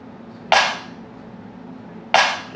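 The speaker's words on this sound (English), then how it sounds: "We just keep it simple. So start off with a clap." Two sharp clap samples from a 148 BPM beat, each a crisp bright hit with a short decaying tail, spaced about a second and a half apart over a low background hum.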